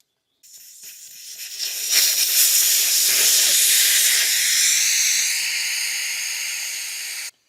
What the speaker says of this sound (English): we'll pull the valve on this back tyre here